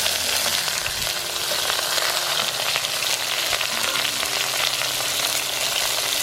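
Onion, ginger, garlic and mustard seeds frying in hot oil for a pork curry, a dense continuous sizzle with faint crackles and pops, close and loud with no talking.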